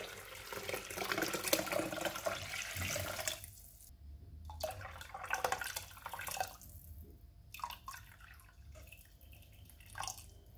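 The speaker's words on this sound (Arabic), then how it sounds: "وغادي نزيد الماء ما نفوتش الماكسيموم" Water pouring into a Thermomix bowl for a barley soup, a steady splashing stream for about three seconds, then quieter intermittent trickles and drips with brief pauses, close and moderately loud, no talking.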